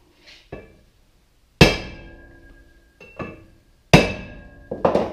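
Hammer blows strike a front wheel bearing on a car, four or five sharp metallic clanks with ringing decay, spaced irregularly with quiet gaps, plus a lighter tap near the start.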